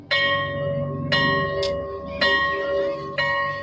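A bright electronic school bell tone strikes four times at regular intervals, each ring sustained and slowly fading.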